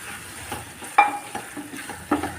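Fried prawns tipped into a thick ghee roast masala, giving a soft sizzle with a few sharp scraping clinks of stirring, close and fairly quiet.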